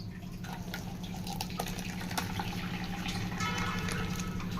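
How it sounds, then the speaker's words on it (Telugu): Tomato and tamarind pulp is strained through a mesh strainer into a bowl as water is added, producing steady trickling and dripping with small splashes, close up under a low constant background hum. "ఇందులో మీరు కొంచెం కొంచెం వాటర్ వేసుకుంటూ స్టైన్ చేసుకోండి"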